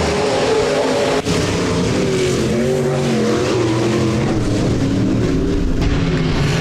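B-Modified dirt-track race cars roar around Rapid Speedway in a heat race, a loud, continuous wall of engine noise with shifting pitch as several cars pass close by, with occasional tire skids.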